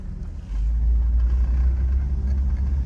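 A right-hand-drive 2002 Dodge Caravan Sport rural mail van pulls away, its engine swelling into a steady low rumble that holds close and even to the end.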